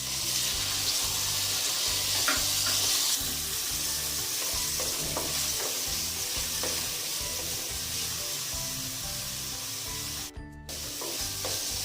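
Chopped onions and garlic fry lightly in a pan for egg chow mein, a steady close sizzle and crackle with faint scraping stirs, continuous throughout and briefly dipping near the end, with no talking.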